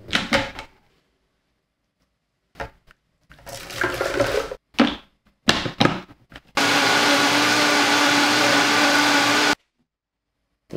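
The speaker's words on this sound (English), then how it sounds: "Wow, this blender is nuts." A powerful countertop blender, Vitamix-type, purées fermented hot sauce in one loud, steady whirring run of about three seconds, preceded by scattered clunks and handling knocks.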